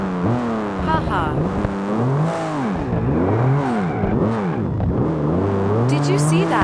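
A Toyota Supra in a driving video game revs hard, its engine pitch sweeping up and down through repeated gear changes and throttle lifts, loud and continuous throughout, with a faint tire squeal near the end.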